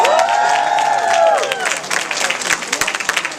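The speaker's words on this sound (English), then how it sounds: "judging from the applause here" Audience applause for a panel of fashion figures at a Macy's Black History Month tribute: dense, steady clapping with some cheering voices, loud at first, then thinning into scattered claps as talk rises.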